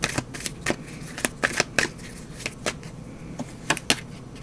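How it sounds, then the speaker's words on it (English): A deck of tarot cards is shuffled by hand in rapid flicks and soft riffles, a run of close, crisp bursts with no talking. "why am I shuffling these?"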